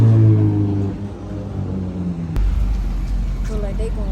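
Ford Mustang at an outdoor car show, its engine rumbling loudly with a deep low growl that swells again midway through, while people talk nearby.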